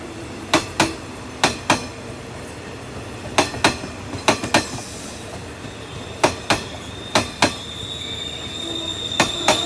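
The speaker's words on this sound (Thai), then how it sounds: "เสียงอะไรจ๊อกแจ๊กจ๊อกแจ๊กอ๋อรอยต่อรถไฟนะครับตรงนี้" Wheels of a Thai express passenger train hauled by a Hitachi 4501 locomotive clack over rail joints in loud paired knocks. The knocks come in irregular groups over a steady rolling rumble, with a faint squeal partway through.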